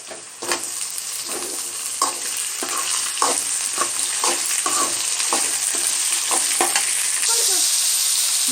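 Potatoes sizzle steadily in a hot pan with softened onions and garlic, a loud continuous frying hiss broken by regular scraping clicks of stirring.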